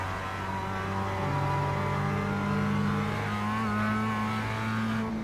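A 2017 Mazda MX-5 in the iRacing simulator accelerates around Lime Rock, its engine note climbing in a steady, sustained rev under throttle, smooth and continuous at moderate loudness.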